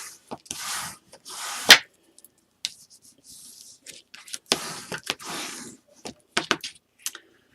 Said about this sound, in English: And I'm going to burnish that down really good.